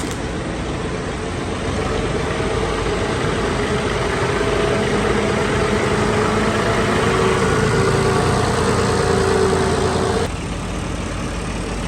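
A tractor engine idles with a steady, loud low rumble, continuous and close, with no voices.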